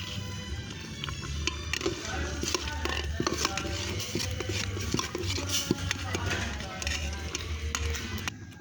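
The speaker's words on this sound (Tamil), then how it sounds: "இனி நம்ம பாசிப்பருப்பை கிளறி விட்டுக்கலாம்" Moong dal being stirred in a pot, a spoon scraping and clinking against the metal over a steady background hum, with scattered light taps continuing throughout.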